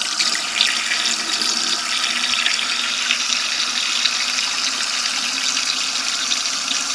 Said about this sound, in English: first I'm going to run a little bit of water in here